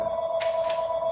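A telephone rings indoors with a steady electronic tone, loud and continuous through the short moment, no voices.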